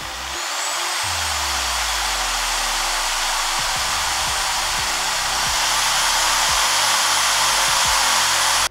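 A power drill bores holes into the cover of a homemade air cooler, its motor whining steadily and loudly for several seconds, with faint grinding bites as the bit works through.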